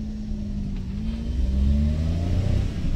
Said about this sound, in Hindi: पहला गियर मैंने लगा दिया है